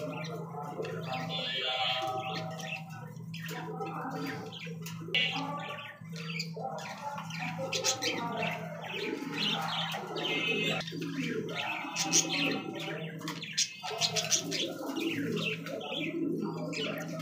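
Breeding pigeons kept for sale, some sitting on eggs, coo and squawk steadily at close range. A low continuous hum and chirps from other birds run underneath.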